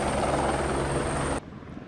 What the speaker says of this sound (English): So I hear a helicopter,